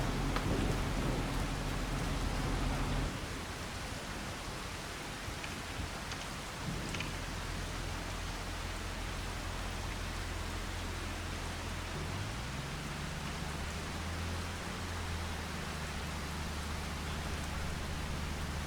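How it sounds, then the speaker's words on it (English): Steady rain falls on the Zielonka farm in Farming Simulator 25, a constant soft hiss with a low droning hum underneath that shifts pitch partway through. "since it looks like it's going to continue to rain"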